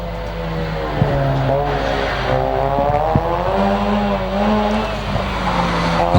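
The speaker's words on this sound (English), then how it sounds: "see the RX-8 of Bailey Munro now making its way to the top of the mountain" A Mazda RX-8 race car climbs a mountain hillclimb course, its engine heard steadily at a distance with shifting pitch as it accelerates and changes gear, a commentator talking over it.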